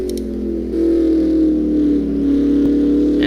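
Racing car engine in a Formula One video game at the Belgian Grand Prix, running with a smoking engine: a loud, steady droning whine whose pitch sags slightly over a few seconds, heard alone without voices.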